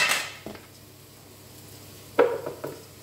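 Two spoonfuls of flour are added to softened shallots in a pan and stirred in, heard as a sharp clatter at the start, then a quiet stretch and a burst of spoon-on-pan scrapes and taps near the end.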